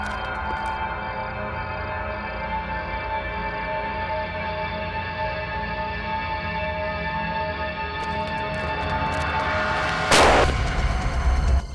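A loud explosion blows up a target, a sudden broad blast near the end following a long stretch of steady, dense rumbling background noise, with no talk.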